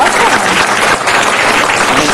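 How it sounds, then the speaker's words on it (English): A large crowd applauds steadily at a city council meeting, dense and loud clapping sustained throughout with no break. "Let's give them a great round of applause."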